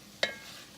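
A single short scrape of a utensil across a pan loosens browned bits while chicken and vegetables cook, a quick sharp rasp followed by a soft, lingering sizzle.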